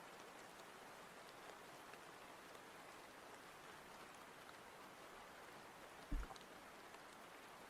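Rain track from an instrumental, a soft, even hiss of falling rain played quietly and continuously, with one brief low thump near the end.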